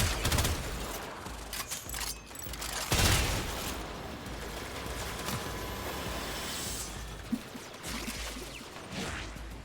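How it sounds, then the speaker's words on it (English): Rapid gunfire in Warframe as the player dives and slowly falls away from enemies while shooting, a dense, chaotic barrage of shots and crashes with whooshing movement, loud throughout with a few sharper bursts. "Slowly falling away from the enemy while shooting at them."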